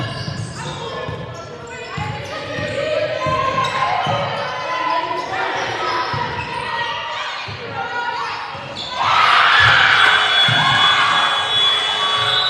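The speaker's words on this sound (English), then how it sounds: "everyone up and cheering" A basketball crowd at a women's league game between Reading Rockets and CoLA Southwark Pride rises and cheers, a sustained roar that swells louder near the end, with ball bounces and a commentator talking over it.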